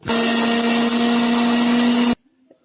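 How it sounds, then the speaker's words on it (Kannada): A mixer grinder blends boiled chickpeas into a paste, a loud steady whirring drone for about two seconds that cuts off abruptly into near silence. "ಈಗ ಮಿಕ್ಸಿ ಮಾಡಬೇಕು."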